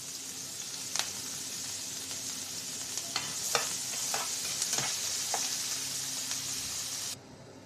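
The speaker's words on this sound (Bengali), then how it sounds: "পেঁয়াজ কিমা কাঁচামরিচ কিমা এটাও লাল লাল করে ভেজে নেবো" Minced onion and green chili fry and sizzle in oil in a pan, a steady hiss broken by several sharp scraping clicks of a spoon stirring, ending abruptly.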